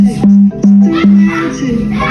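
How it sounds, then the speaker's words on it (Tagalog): A small portable videoke speaker plays back a few punchy, loud sustained tones in short bursts, close and slightly boomy, followed by softer mixed sound. "maririnig na natin yung tunog ng mismong speaker na to."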